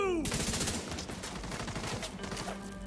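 Rapid automatic gunfire from a looter-shooter video game sounds in a dense, continuous burst of close, loud shots lasting nearly three seconds, with no talking over it.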